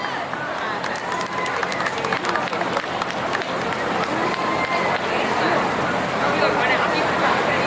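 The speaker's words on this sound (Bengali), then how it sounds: "রাপ্তিলেখার জন্য একটা জোরে হাততালি হয়ে যাক।" Continuous clapping from an audience at a Baisakhi adda event for a performer, thick and even throughout while a host talks over it and the crowd murmurs.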